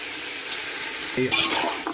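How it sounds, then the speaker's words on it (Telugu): Vegetables with salt frying in a pan, giving a steady close hiss that swells as a utensil scrapes and clinks against the metal near the end; no talking. "సాల్ట్ వేసుకున్నాక పచ్చి వాసన పోయేంత వరకు మంచిగా ఫ్రై చేసుకోవాలి"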